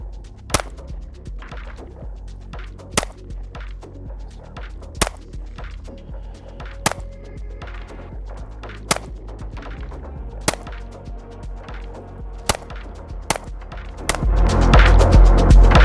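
Rifle rounds striking a self-healing target at an outdoor range, about ten sharp, loud cracks spaced one to two seconds apart over a steady low rumble, ending in a louder rushing noise.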